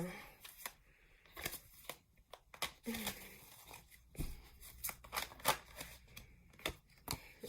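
Tarot cards are shuffled in a quiet series of soft riffles and slaps, with short pauses between bursts and faint murmuring in the background.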